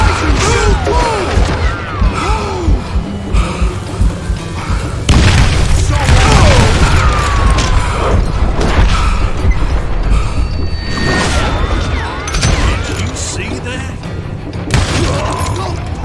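Gunshots from the Call of Juarez: Gunslinger video game, a rapid run of loud booms and crashing impacts that fill the scene, with game noise throughout.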